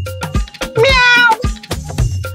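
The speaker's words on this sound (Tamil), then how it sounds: "அது பூனை அங்கிள்." A cat gives one loud, drawn-out meow close by, with a few softer sounds around it and no talking.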